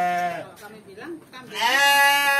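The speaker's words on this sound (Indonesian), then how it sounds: "Berarti ini jenis domba ya" A domba sheep bleats loudly nearby in drawn-out, wavering cries, with a short break between calls.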